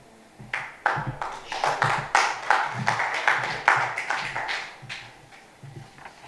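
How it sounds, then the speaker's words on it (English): A small group clapping hands after a prayer at a football event, sparse then rhythmic claps in uneven bursts, fairly close and clear, with no talk over them. "not often do you hear a prayer greeted by a hand clap"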